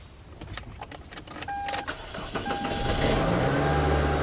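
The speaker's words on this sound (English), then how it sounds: "It actually cranked up, but it's a very slow crank." A Toyota Camry with a starting fault cranks slowly, a labored whirring under a warning chime, before the engine catches and settles into a steady idle.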